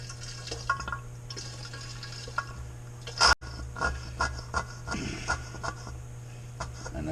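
Bentonite slurry squirted from a small jug into apricot mead, heard as faint close liquid splashes and drips over a steady low hum, with one sharp clunk midway.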